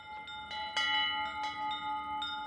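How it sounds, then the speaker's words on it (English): Several bright metallic strikes of a large Austrian cowbell ring out at irregular intervals, each leaving a sustained resonant tone that hangs between hits. "they send you a big Austrian cowbell"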